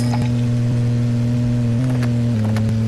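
A car engine in the Vertigo Racing mobile game hums steadily at a loud, even pitch, with small shifts in tone and a few faint clicks running through it.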